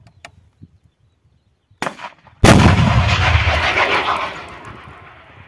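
A Stugna anti-tank guided missile fires with a sharp, loud blast, then a sustained roaring rush as the rocket leaves, preceded by a brief smaller crack and quiet field sounds.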